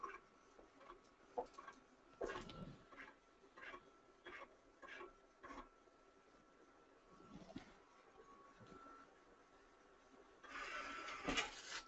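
Vinyl cutting machine slicing heat transfer vinyl, quiet irregular ticks and clicks as the carriage shuttles back and forth, with a brief louder whirring burst near the end; close and faint.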